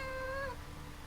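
A person's voice imitates a cat, giving one short, clear meow up close, followed by a quiet room with no other sound.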